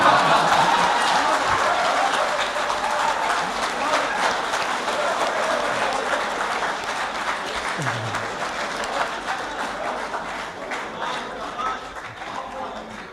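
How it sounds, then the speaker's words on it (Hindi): An audience at an international mushaira in Bahrain bursts into loud, sustained applause, thick rapid clapping from a large hall crowd that slowly tapers off over the clip. "नज्म खत्म हो गई, आप ताली बजा सकते हैं।"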